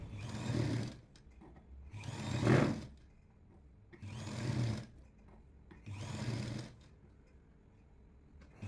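A sewing machine stitches a lined jacket in four even bursts about a second long, each separated by a short pause, close up and fairly quiet with no talking.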